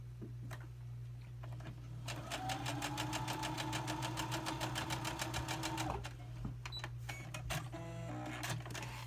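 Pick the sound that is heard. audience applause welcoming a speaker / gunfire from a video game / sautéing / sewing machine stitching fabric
sewing machine stitching fabric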